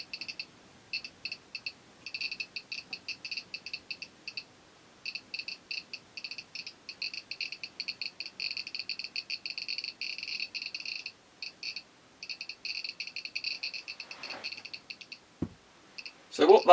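A Geiger-Müller tube held near a gamma source gives off rapid, steady clicking in dense bursts with brief pauses between them. Near the end a couple of knocks are heard as something is handled.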